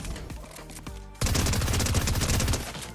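Rapid-fire SMG shooting in Fortnite, a dense, continuous burst of fast shots that starts abruptly and keeps rattling loudly to the end, after a brief stretch of quieter game sounds.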